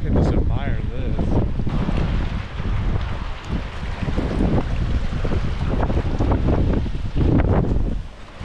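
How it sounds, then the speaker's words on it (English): Strong fall wind blows outdoors on the North Shore and flaps loose book pages. Loud, gusty rumbling buffets the microphone almost without pause. "Might be a little bit too windy for reading. The page is just kind of flopping everywhere"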